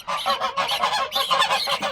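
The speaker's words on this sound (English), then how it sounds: "While we're showing the geese today" Geese on a farm honk over and over in a rapid, overlapping chorus of harsh nasal calls, loud and near, with no pause through the whole stretch.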